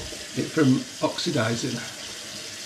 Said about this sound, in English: take one of these sanitised airlocks, put a bit of water in it, pop that in the top